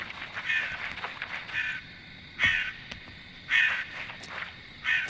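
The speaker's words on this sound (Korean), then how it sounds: "아 까마귀 조용히 해!" A crow caws in repeated harsh bursts, several calls spaced about a second apart, fairly close and clear over quiet background at a run-down abandoned house.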